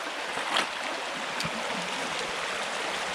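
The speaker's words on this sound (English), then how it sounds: "as we're crossing through this water. It's getting very noisy." Water splashing and rushing as someone wades across a rocky river while mudlarking, a steady broadband wash with a brief louder splash near the start and another smaller one midway.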